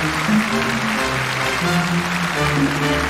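A German TV gala studio audience applauds steadily for a singer, dense, continuous clapping filling the room with faint musical tones running underneath.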